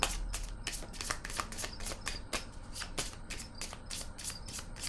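A deck of tarot cards is shuffled by hand, producing a rapid, rhythmic run of close riffling flicks and soft slaps as cards are handled and laid down, steady for about five seconds with no talking.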